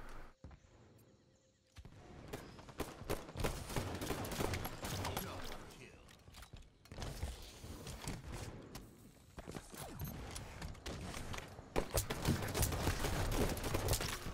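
Rapid gunfire from a Halo 5 free-for-all match, dense bursts of automatic shots repeating loudly through most of the stretch after a short quieter opening, with clattering game effects mixed in.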